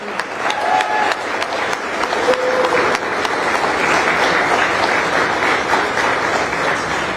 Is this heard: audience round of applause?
yes